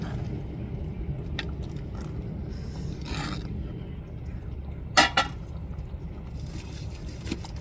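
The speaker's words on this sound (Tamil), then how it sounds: "மெதுவாக அப்படியே கரண்டியை வச்சு அப்படியே ஒரு கிண்டு கிண்டி விட்டுருவாங்க" A ladle stirs thick ragi kali in a pot, giving a few scattered scrapes and one sharper knock, fairly close over a low steady background.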